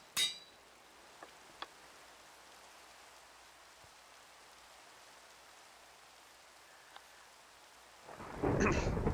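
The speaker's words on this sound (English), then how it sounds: "Was that a lightning strike? I think that was a lightning strike." Thunder from a lightning strike in a modded video game comes as a brief crack at the start, then a quiet lull with faint ticks before a loud, rushing roll of thunder and rain builds near the end.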